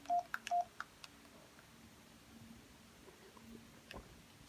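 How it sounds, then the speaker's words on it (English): Short electronic keypad beeps from an Alcatel OT-E220 mobile phone, three quick faint tones at the start followed by quiet room background. "the keypad tones"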